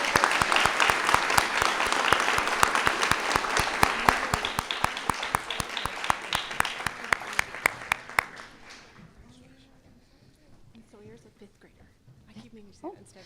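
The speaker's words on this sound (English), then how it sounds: "Let's give them a round of applause." An audience at an award ceremony claps in a dense burst that gives way to a few scattered, slower claps, then fades out as a voice begins talking.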